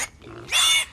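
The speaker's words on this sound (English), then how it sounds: "You still haven't told me what you're going to do with that pig." A pig in a farmyard scene gives a short, loud burst of grunting and squealing near the end of the moment, with low rustling before it and no talk over it.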